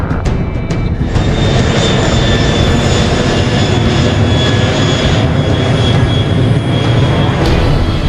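A plane's engine roars steadily through a takeoff in the Chicken Gun video game, a loud continuous jet-like drone with a broad rumble that holds unbroken throughout, with no talking.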